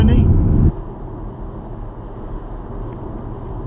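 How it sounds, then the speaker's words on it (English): Steady road noise inside an MG ZS EV electric car cruising at speed on a scenic route, a low continuous rumble and tyre roar; a louder burst at the start then settles into an even drone. "There is a lot of road noise, but no more than you'd expect really in any similar car at this kind of speed."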